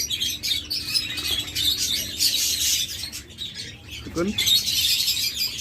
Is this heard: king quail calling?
yes